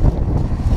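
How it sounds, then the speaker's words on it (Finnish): Cold wind buffeting the microphone outdoors, a steady low rumbling roar filling the brief moment with no voices. "Täällä kuitenkin tuulee"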